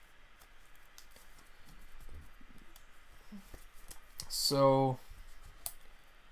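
A deck of Magic: The Gathering cards is riffled in one quick, close, papery burst, with a brief spoken word before it over a quiet room.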